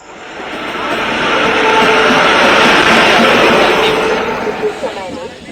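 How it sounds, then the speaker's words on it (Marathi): A crowded passenger train pulls away with a steady rumble that swells and then holds, heard from inside a packed general coach, with people talking over it. "आता निघाली ट्रेन"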